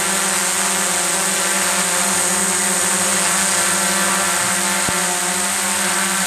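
A DJI Mavic Pro drone hovering in place: a steady, loud, close propeller buzz with a constant tone that holds unchanged throughout, with one faint click partway through.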